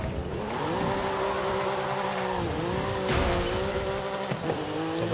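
Tires squeal steadily through a drifting car in the racing game Forza Horizon 5, with a sustained engine whine rising and dipping over about five seconds, loud and close with no talk.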